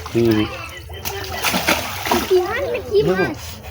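A barramundi (bhetki) caught in a net in a pond splashes loudly in short bursts, with several voices, including a child's, calling out over the water.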